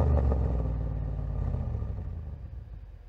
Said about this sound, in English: Back in our engine audio metasound, we have some exhaust offload samples which are in a random array.